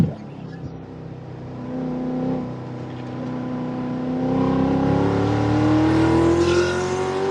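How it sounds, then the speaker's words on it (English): A BMW M2 race car's turbocharged engine climbs steadily in pitch as it accelerates along the track, loud and sustained, with turbo whine over the engine note while commentators talk over it. "That thing is making some serious turbo noises through here"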